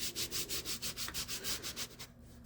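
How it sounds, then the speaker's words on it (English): A bone folder rubs briskly back and forth over a glued paper card panel on a hidden flap pop-up card, about a dozen quick, even scraping strokes up close before the motion stops. "Rubbing your bone folder over the back of something that you put adhesive on"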